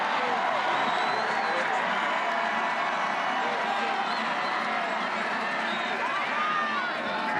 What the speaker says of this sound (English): Now the home crowd turning up the noise on 3rd down and 4 from the 39.